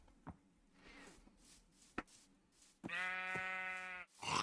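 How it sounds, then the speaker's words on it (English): A sheep in the Minecraft video game gives one clear, loud, buzzing bleat lasting about a second, preceded by a few short clicks and thumps of game sounds, with no talking. "Now we got a sheep, now we got alpacas."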